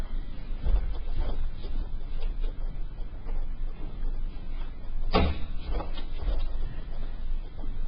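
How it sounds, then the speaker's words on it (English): A classroom door is shut with one short, solid thud partway through, heard over a constant room hiss with no talking. "I'm going to shut the door."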